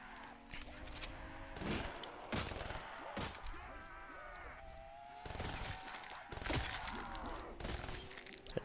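Gunfire from a weapon in Black Ops 3 Zombies, heard as rapid repeated shots with cracks and zombie groans over a dense, busy game soundscape, with a faint voice at times.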